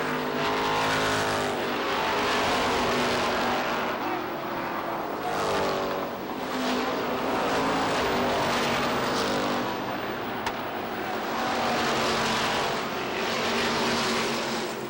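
Street stock race cars roar around the oval at Lee USA Speedway during a feature race, engines loud and close, rising and falling as the pack sweeps past, with no talk.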